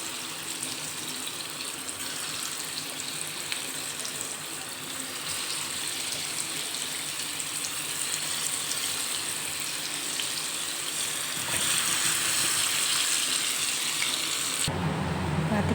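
Raw banana balls deep frying in hot oil, a steady broadband hiss and bubbling sizzle that holds throughout, swelling slightly louder near the end before a brief change in tone.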